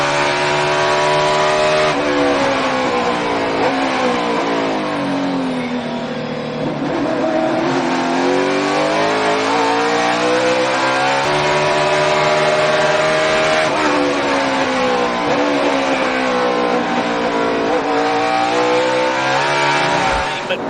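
NASCAR stock cars howl around a road course, engines roaring loud and steady with rising and falling pitch through gear changes and corners, continuous throughout.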